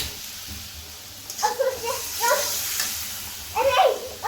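Hilsa fish head dropped into spice paste frying in a pan, bursts of sizzling and hissing flaring up in several surges, with quieter low background murmur between them.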